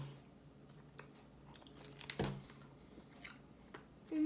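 Close, quiet chewing of a piece of Fusion Fuel flavored chicken jerky, with soft crunching bites and one louder bite partway through.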